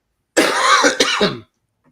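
A single harsh cough with some throat clearing, close and loud, lasting about a second before silence.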